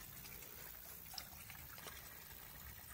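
Spring water trickles and splashes from an outlet pipe outdoors in autumn, a faint, continuous, even babble with no other sounds.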